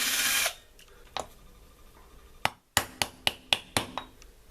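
Work on a Makita M0921 angle grinder while removing the pressure plate that holds the bearing in the housing: a short burst of power-tool whir, then a quick run of sharp metallic clicks and knocks close by.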